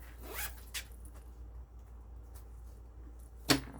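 A zipper is pulled closed around a laptop sleeve sewn from Dollar Tree dish mats. Several quick, close zips come in short bursts, with the sharpest one near the end.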